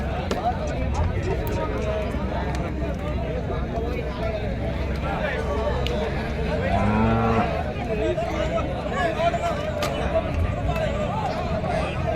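A busy cattle market in Erode, Tamil Nadu: cattle shuffle and low animal sounds mix with constant chatter of many people nearby, with a brief lowing call partway through.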